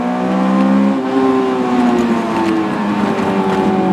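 Honda S2000 AP1 with its 9000 RPM engine, revving hard. A loud, close, continuous engine howl rises and shifts in pitch for the whole clip, with no one talking.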